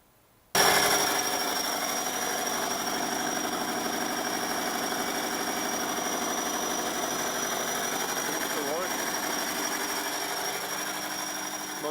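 A 20 kW diesel generator engine starts up and runs with one cylinder weak, a loud, steady, close-up rumbling clatter that holds for over ten seconds after a quiet start.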